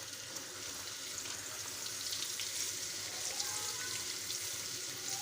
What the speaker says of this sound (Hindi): इसमें हम खड़े मसाले डाल देंगे